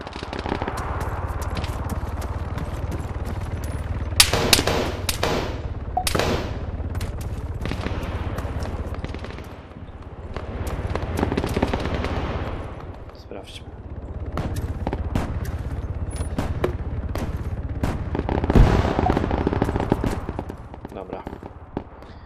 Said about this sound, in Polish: na pewno niedaleko mnie są strzały, padają